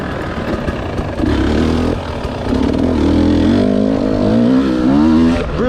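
A 2020 TX300 two-stroke dirt bike engine revs loudly and close, its pitch climbing and falling in repeated surges over a rough, buzzing idle, with no talking.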